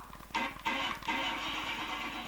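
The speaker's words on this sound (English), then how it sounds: "So you ring the bell and you get a car rev up." An engine revving up in the CD-i game The Riddle of the Maze, a short roar that swells three times in quick bursts and then holds a steady, buzzing drone, moderately loud with no talk over it.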